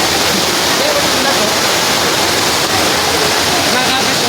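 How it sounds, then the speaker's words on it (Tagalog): Mina Falls waterfall pouring steadily into a river, a loud, close, continuous rushing roar of water with no break across the few seconds. "Mina Falls."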